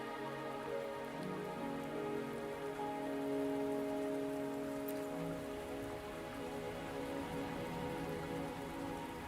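Rain falls steadily in the Wuthering Waves game world, a soft constant patter of drops on surfaces beneath faint sustained background music tones, calm and quiet throughout.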